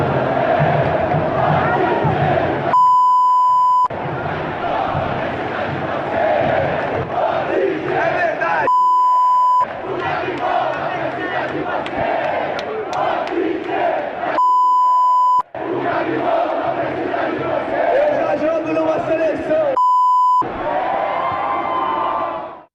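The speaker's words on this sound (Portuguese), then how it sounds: "A torcida do Flamengo externou a sua opinião, né, achando que o Gabigol deveria estar na seleção e cantou a musiquinha" Flamengo supporters chant a song together in a dense, roaring stadium crowd, backing Gabigol after his World Cup squad omission; the loud massed singing is cut at regular intervals by short, steady electronic beeps.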